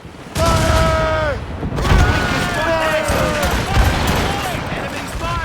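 Ship cannons booming and firing in a naval battle in Assassin's Creed Rogue, loud repeated blasts layered over continuous shouting crew voices and swelling battle music.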